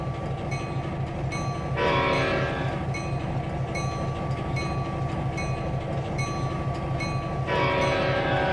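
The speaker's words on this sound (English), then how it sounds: "The old brake sound." A train in the Trainz 2022 simulation game rumbles steadily under a faint tonal whine, while two loud bursts of hissing brake air break through, the first early and the second near the end.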